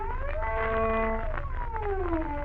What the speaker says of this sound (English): A glissando would be with the finger pressed solidly on the string and would give you a sound like this.